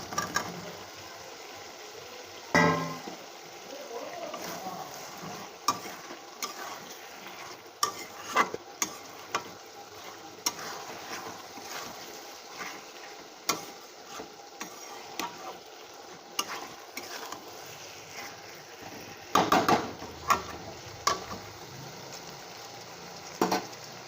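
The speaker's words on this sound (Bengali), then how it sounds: "এবার ভেজে রাখা আলুগুলো দিয়ে দেবো" Fried potatoes stirred in a frying pan, with a quiet continuous sizzle broken by repeated sharp scrapes and clicks of a spoon against the pan, some clustered together, heard up close with no talk.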